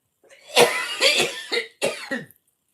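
A single person coughs close to the microphone in a quick series of four or five harsh, throaty bursts lasting about two seconds.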